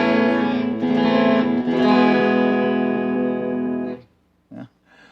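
An electric guitar on an Ibanez ITF 400 TRD plays through an effects unit with no boost, reverb or delay, ringing dry, loud, sustained chords that stop abruptly, followed by a brief muted strum.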